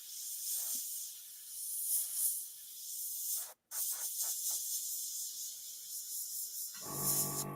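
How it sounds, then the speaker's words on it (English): Airbrush spraying paint onto a model, a continuous soft hiss heard close up that cuts out once briefly and then resumes, with quiet clicks and a low hum coming in near the end. "I'll always draw the pattern on with the brush first, with the airbrush first"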